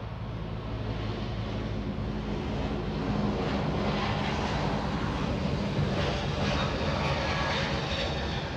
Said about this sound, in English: Hawaiian 63, that's an A321neo flying to Hawaii.